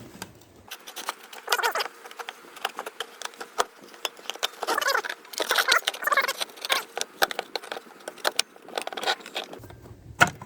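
Evinrude/Johnson outboard recoil starter pulley spun by hand to rewind the rope, giving rapid close ratcheting clicks and light rattling patter in irregular bursts, with no speech.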